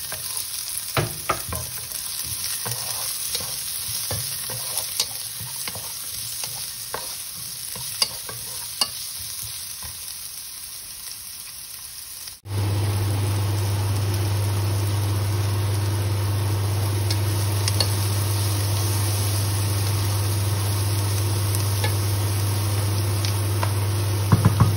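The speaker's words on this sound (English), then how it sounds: "we'll do is add the garlic." Garlic and onion fry in a pan for pork adobo, a steady close sizzle with scattered stirring scrapes, then a loud continuous hum joins the sizzle midway and runs to the end.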